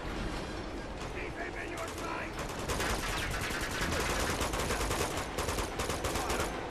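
Gunfire in Uncharted 2 Among Thieves: dense rapid bursts of automatic shots crackling close, growing louder and busier in the second half, with a voice talking over it.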